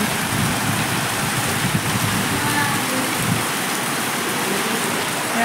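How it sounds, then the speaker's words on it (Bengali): Heavy rain pours down steadily in a loud, unbroken hiss that washes over everything, dense and close throughout with no pauses or other sounds standing out. "এত জোরে বৃষ্টি পড়ছে"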